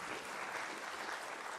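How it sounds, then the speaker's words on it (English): Audience applause at a youth and women water and sanitation conference, a dense, even patter of many hands clapping, heard as a faint, distant wash. "Another round of applause, ladies and gentlemen."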